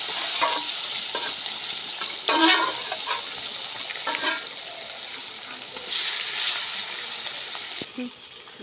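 Fish pieces frying in hot oil in a kadai, with a steady close sizzle and bursts of louder spitting and crackling as they hit the oil and are stirred, no talk.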